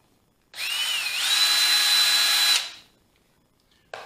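A power drill bores a half-inch hole through wood for a dowel, running steadily for about two seconds with a high whine as the bit cuts, then spinning down, heard up close with no talking.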